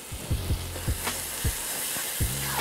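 Garlic sizzles in a hot pan with tender vegetables for shrimp fried rice, a steady close frying hiss punctuated by repeated clacks of a utensil stirring and scraping the pan.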